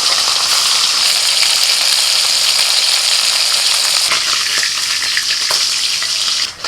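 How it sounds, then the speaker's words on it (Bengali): Small chopped fish fry in oil over a stove, making a loud, dense, steady sizzle. Stirring adds a few scrapes and clicks in the later seconds, and no one speaks. "এবার মাছগুলো ভাজা হয়ে গেলে এবার কুচি মাছগুলো ভেজে নিচ্ছি"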